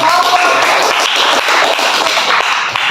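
A classroom group claps together for a presenting group, a brisk continuous patter of hands filling a few seconds, fairly loud and close.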